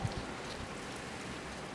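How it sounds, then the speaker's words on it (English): Steady rain falls outside, a dense even hiss of drops on surfaces with no talking, continuous and moderately loud throughout. "Here's the rain."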